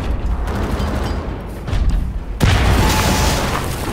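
A grenade blast in the shooter game Wolfenstein: The New Order, a sudden loud boom followed by a broad rumbling wash of noise amid ongoing combat sounds.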